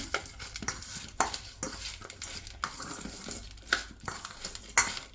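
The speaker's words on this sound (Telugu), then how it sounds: "ఇప్పుడు ఒకసారి మొత్తం కలిపేసుకుందాము" Lemon pickle with turmeric is stirred by hand, giving repeated soft scraping and clinking strokes of a spoon against a vessel at an uneven, close rhythm.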